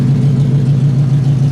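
A 1964 Studebaker Wagonaire station wagon with single exhaust idling close by, a loud steady low hum with an even throb and no talk.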